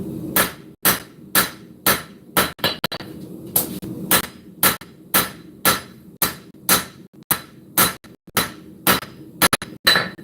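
A hammer forges the distal taper and bevels of a steel blade: about twenty loud, sharp ringing blows land in a steady, evenly spaced rhythm, close up.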